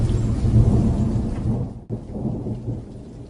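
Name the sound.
rain and thunder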